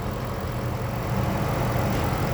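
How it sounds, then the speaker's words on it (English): A 2016 Lincoln MKX engine idles steadily with the hood up, a smooth, even low rumble that holds constant throughout without talk. "Okay, shot with the motor running."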